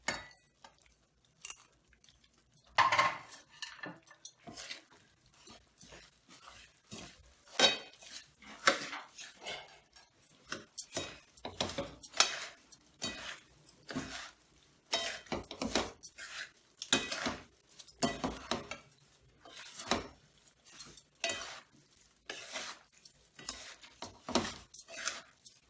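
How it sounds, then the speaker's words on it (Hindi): Panjiri with raisins and sugar is stirred in a pan by hand, with irregular scraping and clinking strokes of a spoon against metal, some sharp knocks and quiet gaps between bursts. "किशमिश भी डालते हैं, साथ ही चीनी भी डाल देते हैं और इसको मिक्स करते हैं"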